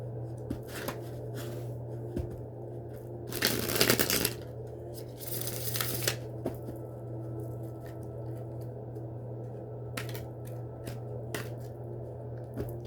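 Tarot cards from a Thelema deck being shuffled by hand, with a few bursts of riffling and soft slapping at uneven intervals over a steady low hum, close and fairly quiet.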